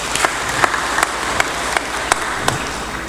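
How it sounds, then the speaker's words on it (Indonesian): Loud, dense audience applause fills an indoor hall at a regional military command gathering, continuous crowd clapping with a few sharper individual claps standing out above the wash. "Tepuk tangan sekali lagi."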